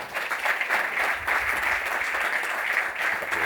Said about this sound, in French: On peut applaudir Jérôme, s'il vous plaît.